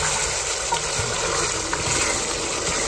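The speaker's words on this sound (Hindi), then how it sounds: "तकरीबन चार गिलास के बराबर पानी डालूंगी।" Roughly four glasses of water poured into a pot of chana pulao masala, a steady gushing splash that holds evenly throughout, close and fairly loud, with no one speaking.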